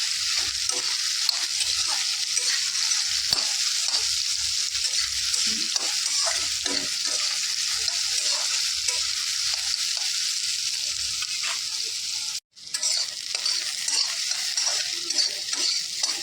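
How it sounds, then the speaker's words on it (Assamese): Soybean chunks fry in a pan with golden onions, giving a dense, loud, continuous sizzle with scattered stirring clicks and scrapes close by, broken by one brief dropout near the end. "এতিয়া চয়াবিনখিনি ঢালি দিম আৰু ভালকৈ ভাজি দিম।"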